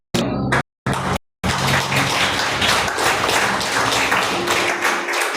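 A church congregation breaks into sustained applause after a couple of short bursts and brief pauses, with dense clapping that fills the space and keeps up steadily to the end.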